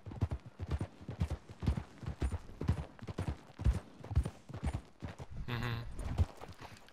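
Horse hooves clip-clopping in the video game Red Dead Redemption 2, a brisk, close run of sharp rhythmic hoofbeats at a steady gait, with a brief creaking, whinny-like sound near the end.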